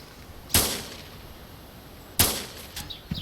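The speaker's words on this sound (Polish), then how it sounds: "Ale strzały dobrze słychać." Two sharp gunshots ring out about a second and a half apart in the survival video game DayZ, each a sudden loud crack that fades quickly over quiet background noise.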